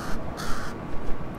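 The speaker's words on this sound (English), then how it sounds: "Oh, hey, Crow" A crow in Little Kitty Big City gives a few quick rasping caws in rapid succession, loud and close over a dense, noisy game background.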